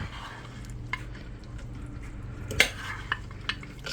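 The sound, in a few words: stirring taco casserole mixture with cheddar jack cheese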